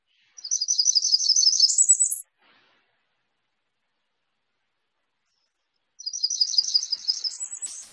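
A Blackburnian warbler sings two high, thin, rapid trilling phrases, each rising sharply at the end, separated by a few seconds of silence and heard clearly without other sound.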